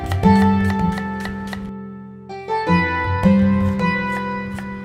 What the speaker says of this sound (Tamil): வெங்காயத்தை நல்லா பொடி பொடியாக வெட்டிக்கலாம்